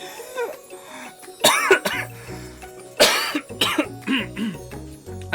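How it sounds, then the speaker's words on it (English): A person coughs repeatedly right into a microphone, with harsh, close, loud bursts and some throat clearing between quieter gaps. "I'm so sorry for coughing in the mic"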